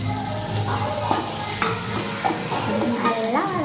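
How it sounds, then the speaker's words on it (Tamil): Onions and tomatoes sautéing in a pan for Indian chicken kolambu, a steady close sizzle with repeated stirring scrapes running throughout, no talking. "இப்போ நல்லா நம்ம வதக்க ஆரம்பிக்கலாம்."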